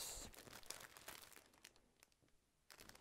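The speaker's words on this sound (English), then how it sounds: "I'm looking for a plastic bag there." A plastic bag crinkles and rustles faintly nearby in scattered bursts, quiet handling noises with brief pauses, no talking.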